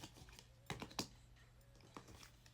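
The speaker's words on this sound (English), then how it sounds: "Excuse my cards because I'll be shuffling" Tarot cards being shuffled by hand: a few quick, soft crisp flicks and taps in an irregular cluster, close but faint against a quiet room hum.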